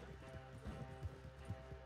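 Horse hooves gallop in Red Dead Redemption II, a steady, rhythmic clip-clop of repeated thuds, quiet and fairly even throughout with no voices.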